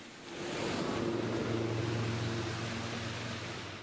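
Floodwater pours over the banks of fields and onto a road after heavy rain in Beed, a broad steady rushing roar with wind noise on the microphone, and no voices.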